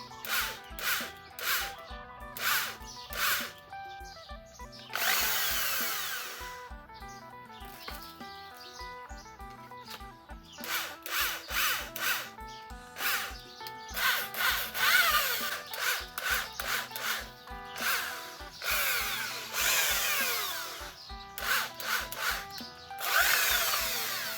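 Power drill boring into a hand-made bamboo rocket, repeated bursts of whining drilling and grinding against bamboo, loud and close, stopping and starting throughout with short pauses between.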